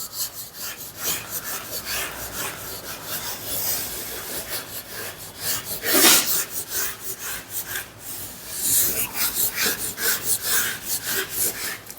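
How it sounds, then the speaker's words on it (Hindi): Writing being rubbed off a board with rapid back-and-forth scrubbing strokes, loud and continuous with a rasping texture, with no voices. "ये मैं रब कर लेता हूँ।"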